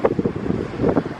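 Wind gusts across the microphone on the California coast overlooking the ocean, with Catalina Island in view; a steady, rumbling buffeting, fairly loud and close, fills the short stretch without any talking.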